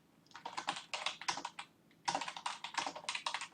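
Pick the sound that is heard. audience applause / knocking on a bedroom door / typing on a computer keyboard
typing on a computer keyboard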